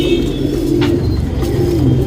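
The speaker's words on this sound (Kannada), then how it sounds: "ಇವಾಗ ಏನು ಜಸ್ಟ್ ಧೂಮಾಲ್ ಗಂಡು ತೋರಿಸ್ತೇವೆ" Male Dhumal pigeon cooing close by, a loud continuous low throaty rolling coo with soft rhythmic pulses, alone without talk.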